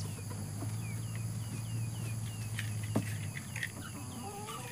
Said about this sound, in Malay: Kita lepas ayam dulu.